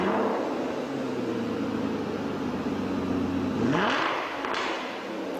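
Aston Martin engine sound played back from an iPhone sports car app: a steady engine hum that swells into a rising rev toward the end, then settles back down.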